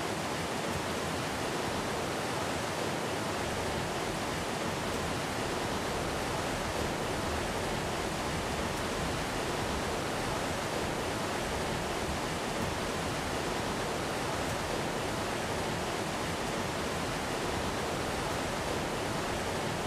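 A loud waterfall in the video game Ark roars steadily and close, a dense unbroken rushing wash that never lets up.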